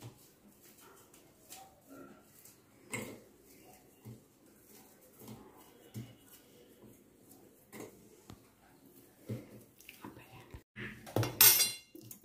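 A knife cuts a cooled rava laddu mixture of semolina and sugar into small pieces on a plate. Faint, scattered clicks and scrapes of metal sound sporadically in a quiet kitchen, with a sharper clatter near the end.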